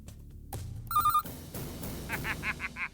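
A telephone rings in a Tamil household, its bell trilling in several short bursts over a busy room with background noise and brief voices nearby.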